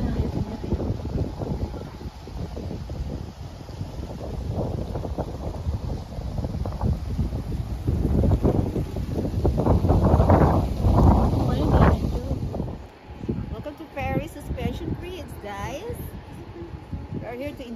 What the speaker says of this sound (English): It's a really cool weather and a little windy right now.